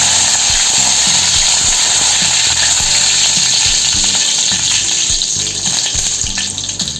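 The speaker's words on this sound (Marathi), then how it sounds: "आपण याच्यामध्ये मोहरी घालून घेऊ जिरे कढीपत्ता घालून घेऊ" Mustard seeds, cumin and curry leaves sizzle and crackle in hot oil, a steady loud fry with scattered sharp pops throughout, alone with no voices.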